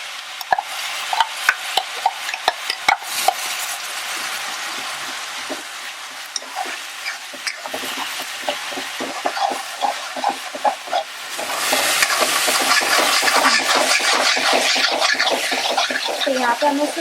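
Coarse ginger-garlic masala paste for Punjabi rajma stir-fried in a pan, scraping spoon strokes over a soft sizzle that swells louder toward the end, with people talking throughout.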